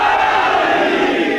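A large crowd at a Shia religious majlis roars a slogan together, a loud, sustained, massed shout that holds steady for its whole length.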